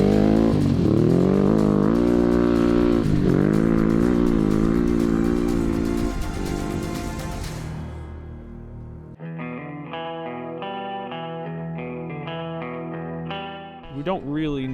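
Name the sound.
Ducati DesertX motorcycle riding in rally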